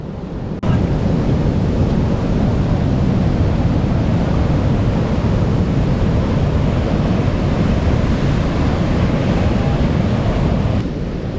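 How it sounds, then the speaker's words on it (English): Stormy wind and crashing ocean waves at the seashore form a loud, continuous roar of surf, with heavy wind buffeting the microphone throughout. "It's windy, it's stormy, but it's good."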